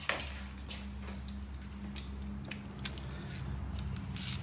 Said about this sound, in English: we're gonna get this to keep on going down now by hand with a ratchet